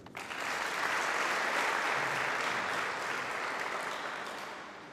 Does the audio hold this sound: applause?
yes